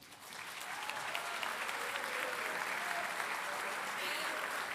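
Sustained audience applause at an economic development awards ceremony in a theatre, dense steady clapping from a large crowd throughout as a company representative collects a prize.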